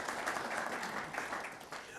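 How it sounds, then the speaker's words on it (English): Audience applause at a Conservative Party leadership hustings, a steady wash of many hands clapping in a hall at moderate level, holding evenly for the whole stretch. "You were applauding the question."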